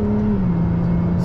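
A Ferrari LaFerrari hybrid sports car accelerating, a loud, close, steady engine roar with a tone that drops slightly as it pulls away.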